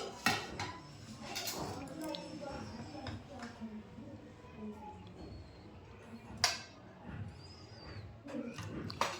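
Rice is served onto a plate in a home kitchen, with soft scraping and sharp clinks of dishes and utensils at irregular moments, heard under quiet talk.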